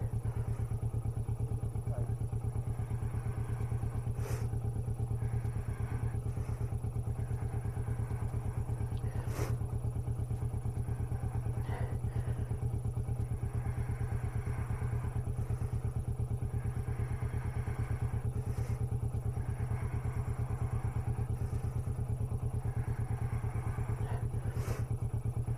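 Steady motorcycle engine drone while riding in the dark up an icy village hillside at minus eight, a constant low hum with occasional faint thumps and clatter, and a voice talking softly over it.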